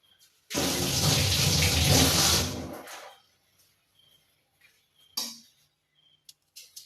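Onion rinsed under a running kitchen tap, a loud gush of water for about two seconds that then cuts off, followed by a few faint handling clicks and taps.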